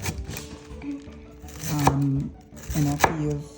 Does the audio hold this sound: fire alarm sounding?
no